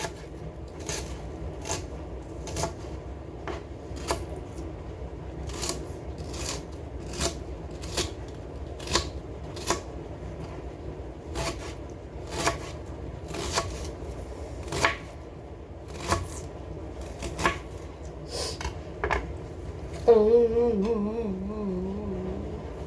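Knife chopping onions on a cutting board: regular sharp chops, fairly close and steady, with no talk, then a different clattering sound near the end.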